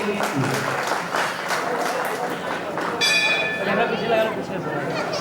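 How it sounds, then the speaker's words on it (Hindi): An audience at a religious gathering with a Jain nun breaks into loud, sustained applause in welcome, joined by a ringing bell partway through while voices carry over the crowd. "आइए एक बार जोरदार तालियों से आप सभी लोग स्वागत कीजिए।"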